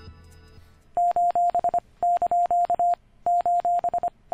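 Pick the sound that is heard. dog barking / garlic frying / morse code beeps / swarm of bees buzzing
morse code beeps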